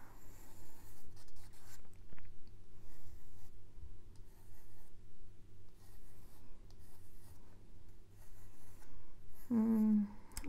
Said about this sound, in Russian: сейчас я попробую карандашом нарисовать